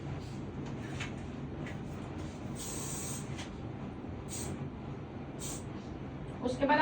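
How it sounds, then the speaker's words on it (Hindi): Hair spray from an aerosol can hisses in several short bursts over a child's ponytail hairstyle, close up, against steady background room noise with faint talk. "हेयर स्प्रे करके बिल्कुल हल्का हाथ चलाना है"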